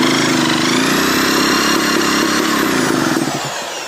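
A rebuilt Peugeot 103 moped engine fires up after an ignition tool spins it, giving a loud, rapid two-stroke buzz that holds steady, then eases slightly toward the end.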